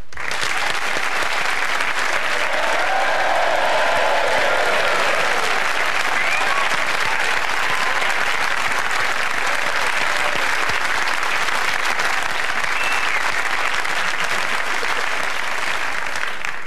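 A studio audience cheers and applauds loudly and steadily for a mystery guest on a sports comedy panel show, a dense wall of clapping and whoops sustained throughout with no clear talk on top.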